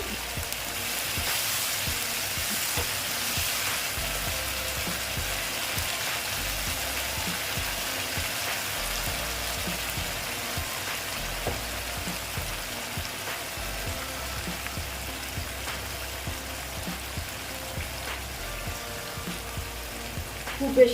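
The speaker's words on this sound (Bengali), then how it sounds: "সেই জন্য দেখো একটু কষিয়ে নিচ্ছি" Mustard paste is sautéed in a pan for an egg curry, with a soft, steady sizzle and a rough, grinding stirring texture that continues throughout. A short clatter comes at the very end.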